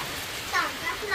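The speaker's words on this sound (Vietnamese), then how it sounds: "Ra đến đây là mưa to rồi mọi người ạ. Mưa to ấy." Heavy rain pours down in a remote border village, a dense steady hiss that swells briefly, with a voice faintly present underneath.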